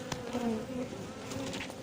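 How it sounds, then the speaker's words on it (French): A swarm of honey bees being gathered into a cardboard box in Villabé gives off a dense, steady buzz up close, with no talk. "gros paquet d'abeilles"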